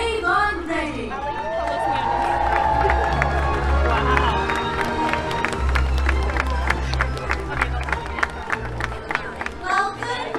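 A large crowd at Disney's Animal Kingdom on Earth Day cheers, claps and whistles steadily throughout, a dense roar of many voices and applause with scattered shouts, loud and close.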